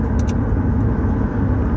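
Cars pass on a road at night during a drive from Long Beach to Carson, California, a loud continuous rumble of engines and tyres with no break.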